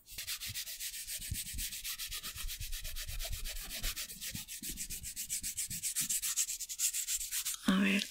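Fingernails being filed with a nail file in close-up ASMR style, a quick steady back-and-forth rasping that repeats in an even rhythm and stays soft and near throughout.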